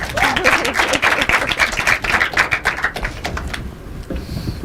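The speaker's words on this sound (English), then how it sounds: "That's a good place to clap, people." An audience at an inter-collegiate debate competition bursts into dense, loud applause of many hands, which thins out and fades after about three and a half seconds.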